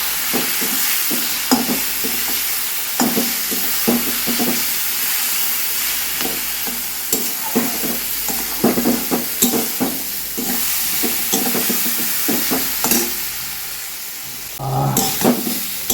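Spices with turmeric frying and being stirred in a pan for a fish-head muri ghonto, a steady close sizzle broken by repeated scraping strokes of the spoon, with a brief louder rattle near the end; no talk.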